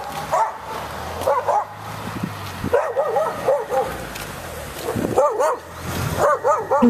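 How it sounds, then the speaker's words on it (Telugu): Several dogs bark and howl together, close and loud, in overlapping bursts of yips and drawn-out wails with short pauses between them. "కుక్కలు కలిసి అరిస్తే ఎలా ఉంటుందో అలా అరుపులైతే వినిపిస్తున్నాయి వాళ్ళకి"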